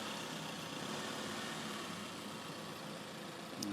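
A van engine pulls away across a car park, a steady mid-distance drone running the whole time with a slight swell at the end, heard without talk.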